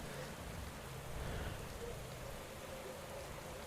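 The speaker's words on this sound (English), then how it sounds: "The rain, of course, won't be helping with any of the crashes." Rain in the Pro Cycling Manager cycling game during a Tour de France stage, a dense steady patter of drops hitting surfaces, even and continuous with no talking heard over it.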